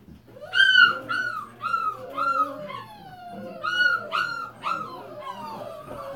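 Several puppies at a kennel yipping, whining and whimpering in overlapping high-pitched cries, close by, with no talking.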